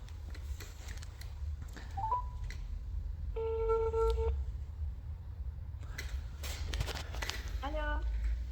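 A telephone call being placed: short dialing beeps and a repeating ring tone come through faintly at moderate distance, amid quiet background rustle.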